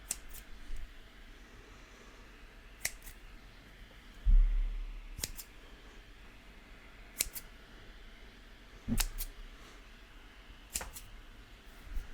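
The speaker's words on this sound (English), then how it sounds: "These were the little red and white scissors that we had" Several sharp, crisp snips of scissors spaced a few seconds apart, close by against a quiet background.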